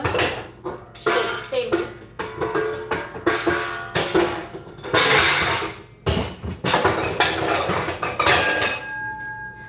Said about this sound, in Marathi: हा बघा मी हा कुकर घेतलेला आहे आणि आता मी याचे झाकण शोधत आहे